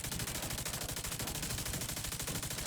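Rapid automatic gunfire in The Division 2, a dense continuous burst of shots at steady rhythm, loud and close, running the whole time with no talk over it.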